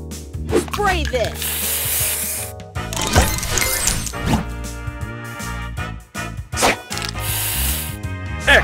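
Spray booster effect from the Match Masters mobile puzzle game, a bright hissing spray burst layered with chiming game jingles and musical tones, loud and busy throughout with repeated short bursts.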